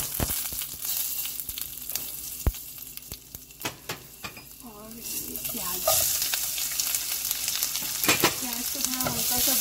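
Asafoetida and curry leaves sizzling in hot oil for Punjabi kadhi, crackling sharp pops and clicks that swell into a louder, denser sizzle toward the end, with no voice.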